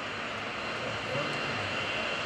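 An aircraft lands at the AirPower Over Hampton Roads air show with a steady, loud engine roar that stays constant throughout, while an announcer talks over it.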